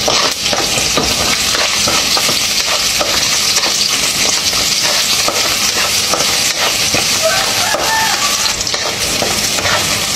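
Onions frying in a pan for ginataang gulay, a loud, dense, continuous sizzle with stirring, close up.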